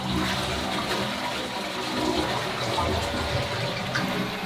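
A toilet flushes in a cabin in the forest, a loud, steady rush of water that stays close and continuous for the whole few seconds with no talk over it.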